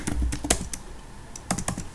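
A password is typed on a computer keyboard: a short, quick run of crisp, close key clicks with uneven spacing.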